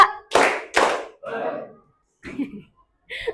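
Two sharp hand claps sound in quick succession, close and loud. Brief softer vocal sounds follow after a short pause.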